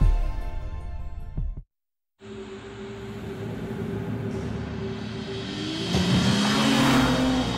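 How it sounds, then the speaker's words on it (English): A BMW 3 Series sports sedan drives past, a steady, fairly loud engine and road rumble with a rising tonal whine near the end, heard alone after a brief silent cut. "Introducing the new BMW 3 Series, our most advanced three yet."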